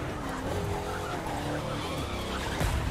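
Tires squeal as a VW Touareg skids through a snowy street race in The Crew 2, a continuous, steady loud blend of game engine drone and skidding over about three seconds, with a brief surge near the end.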